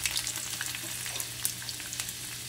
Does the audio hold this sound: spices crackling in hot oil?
yes